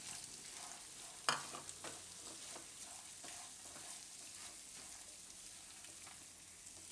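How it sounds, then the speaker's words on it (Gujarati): Sprouted mung beans stirred in a hot pan for a Gujarati potato and mung curry, with a sharp scrape of the spoon followed by a steady quiet sizzle and occasional stirring clinks. "હવે આપણે એમાં આ મગ નાખી દઈશું"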